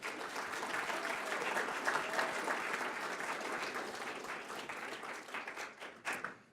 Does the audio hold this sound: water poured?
no